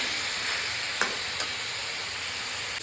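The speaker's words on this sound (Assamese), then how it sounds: "এতিয়া তেল বিৰিঙি আহিছে আৰু অলপ ভাজিব লাগিব" Chicken and potatoes fry in hot oil in a wok while the water cooks off, making a dense, steady close sizzle with a couple of soft stirring scrapes and no talk.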